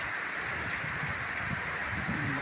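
Steady broadband rushing of a river mixed with rain hiss at a hanging footbridge in Gainza, Philippines, continuous and fairly faint, with no voices.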